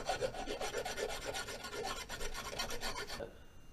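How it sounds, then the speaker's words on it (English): A metal file rasps across a cut bolt on a turbo build for a Scion tC, making quick, rhythmic back-and-forth strokes that are close and clear before stopping abruptly. "File it down just a little bit."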